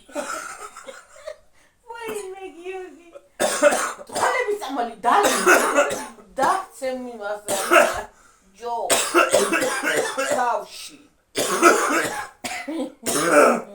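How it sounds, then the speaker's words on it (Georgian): A person coughs several times in rough bursts, mixed with chuckling and spoken conversation, loud and close. "ახველებს და რომ ახველებს."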